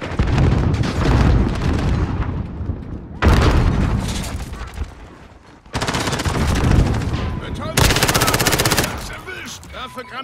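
Heavy gunfire and grenade blasts from Call of Duty Modern Warfare multiplayer, with loud bursts of rapid automatic fire broken by short gaps, close and dense throughout.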